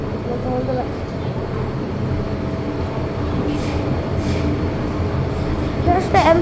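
A Hong Kong MTR Island Line train runs between Causeway Bay and Central with a steady loud rumble and rolling wheel roar, plus brief squeals near the end, heard from inside the carriage.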